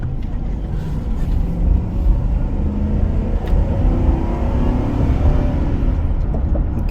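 A 2006 Ford F150 pickup accelerates to merge onto traffic, its engine giving a loud, steady, low rumbling drone from inside the cab with road noise underneath throughout.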